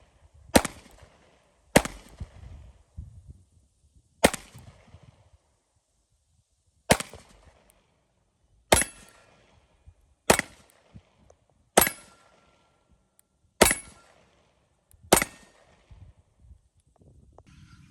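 Springfield Armory Hellcat Pro pistol fired with jacketed hollow-point rounds at a range, nine sharp, loud reports spaced one to two seconds apart, each with a short ringing tail and quiet gaps between.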